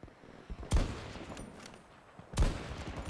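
Two loud sniper rifle shots in Battlefield 2042, spaced about a second and a half apart, each a sharp close crack with a booming low tail. Quieter game ambience fills the gaps between them.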